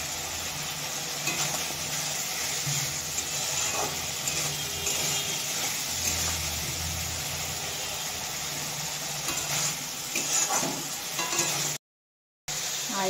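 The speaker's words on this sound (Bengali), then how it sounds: "আর যা মশলা বেটেছিলাম খানিকটা রেখে দিয়েছিলাম সেগুলোকে এবার ভালো করে কষিয়ে নিচ্ছি" Ground spice paste for mutton curry fries and sizzles in a pan, a steady hissing texture with occasional stirring scrapes, loud and continuous before briefly cutting out near the end.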